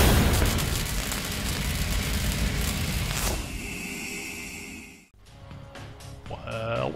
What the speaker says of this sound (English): Enemy armor is destroyed.